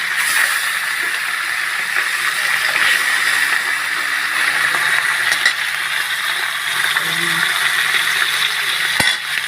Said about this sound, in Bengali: তেল মোটামুটি ভালোই গরম হয়ে গেছে। এই মাছগুলো দিয়ে দিলাম।